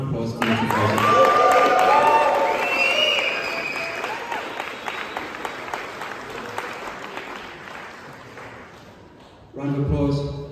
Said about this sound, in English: So a round of applause for Mitchell Fraser